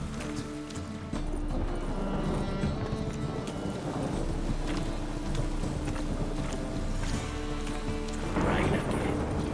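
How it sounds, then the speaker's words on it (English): Rain falling in The Witcher 3: Wild Hunt, a dense continuous wash over a rumbling low background, joined by horse hoof clip-clops and occasional louder swells. "Rain again. Damn mages."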